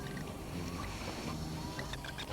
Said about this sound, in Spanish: Esta barca a reacción es uno de los vehículos más modernos en los que los turistas pueden experimentar el Niágara.